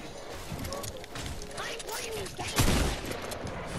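A single sharp sniper shot in Fortnite rings out near the end amid a busy game soundscape, with a person talking over the action.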